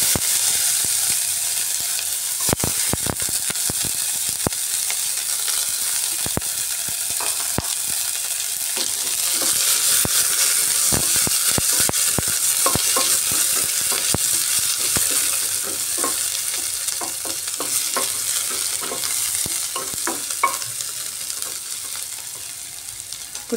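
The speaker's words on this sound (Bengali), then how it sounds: "এবার দিয়ে দিচ্ছি কুচিয়ে রাখা পেঁয়াজ।" Chopped onion is added to hot oil tempered with cumin and bay leaf and sizzles loudly and continuously at close range, with frequent sharp crackles and spatters and the occasional clink of a utensil, and no one speaks.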